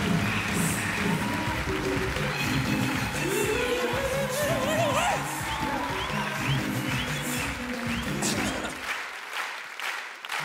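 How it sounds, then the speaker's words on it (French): Audience at a live comedy gala in Montreux applauding steadily for about nine seconds, dense clapping with some crowd noise, then cutting off abruptly near the end. "Plus que ça, allez-y, applaudissez."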